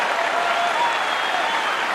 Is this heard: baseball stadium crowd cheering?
yes